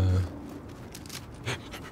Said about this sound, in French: C'est un chien.